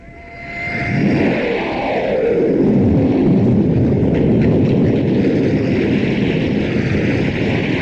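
A man vocally imitates a low-flying jet plane, a loud roaring whoosh that swells in over the first second and then holds as a steady, close rushing drone.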